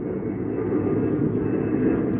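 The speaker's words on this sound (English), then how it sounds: "If you hear the airplane, guys, that's probably, I know you can probably hear that." Airplane passing overhead near an airport beside a lakeside cabin area, a steady loud low roar that holds throughout without breaks.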